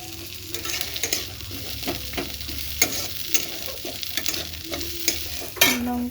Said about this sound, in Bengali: পেঁয়াজগুলো দিলাম, একটু ফ্রাই করে নেব।